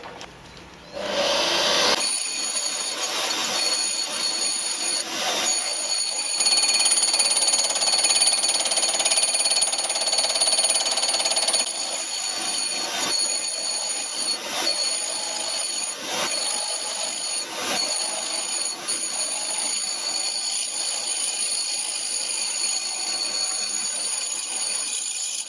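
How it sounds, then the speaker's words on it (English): A diamond disc held in a chuck grinds a metal milling table surface as an improvised surface grinder, giving a continuous high, hissing whine with faint ticking that runs steadily for the whole stretch without any talk. "is a diamond disc, and I'm going to put that in the chuck and try grinding it"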